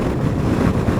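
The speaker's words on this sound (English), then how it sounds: "to me it sounds insanely windy right now" Strong wind buffets the microphone in a steady, loud broadband roar with no pauses, recorded outdoors beside a 2023 Harley-Davidson CVO.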